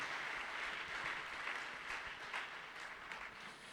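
A church congregation at a Pentecost seminar closing service applauds steadily, a dense, continuous wash of many hands clapping at moderate distance, filling the room without pause.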